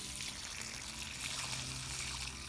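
Water draining from a home water heater through a Harbor Freight Drummond transfer pump, a continuous soft trickling and hissing flow at low volume with no talking.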